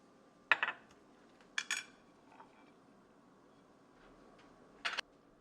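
Dishes and cutlery being cleaned up in a kitchen after cooking fish sauce: a few sparse metallic clinks and clatters in small clusters, fairly close but soft, with quiet pauses between and no talking.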